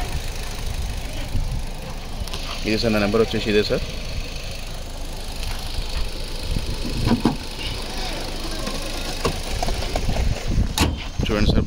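A 2023 Maruti Ertiga VXI petrol car with about 70,000 km idles with a steady, even engine hum throughout, while someone talks over it close by.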